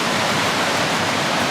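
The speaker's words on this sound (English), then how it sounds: "There's that first set of falls" The first set of falls at Sheep River Provincial Park, a dense, steady roar of falling water that fills the whole clip evenly, close and loud with no voices.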